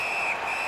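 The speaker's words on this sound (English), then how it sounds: "That puck is held, and the whistle stops play" A referee's whistle in an NHL 19 hockey game blows as one steady shrill tone that stops play, loud and held under a bed of arena crowd noise.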